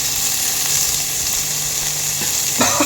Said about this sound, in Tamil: இதை நீங்கள் பொன்னிறமாக வதக்கணும்.